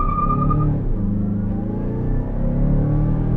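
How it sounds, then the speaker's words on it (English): A 2024 Mazda CX-5 with the turbocharged engine accelerates from inside the cabin, a steady low engine drone rising in pitch through a gear change, loud and continuous with no talking. "Mazda offers a turbocharged version of this engine that, even with regular fuel, makes over 300 pound-feet of torque, providing great passing power."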